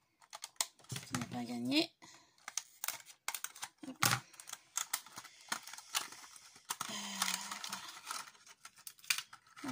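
A packaged box is opened with sharp crinkling, tearing and clicking noises in irregular bursts, close to the microphone, while someone speaks briefly in French.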